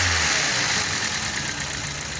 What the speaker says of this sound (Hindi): मैं आपको इंजन कंपार्टमेंट में दिखाता हूँ ये जो है ना किस तरह की मिसिंग कर रही है